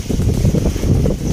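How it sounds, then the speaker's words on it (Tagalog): Strong wind on the coast buffets the microphone in a short, loud, low rumbling gust with no speech. "malakas yung hangin dito"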